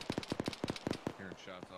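Bursts of automatic gunfire in ArmA 3, several quick sharp shots in rapid rhythm, fairly close, with a voice briefly speaking over the end.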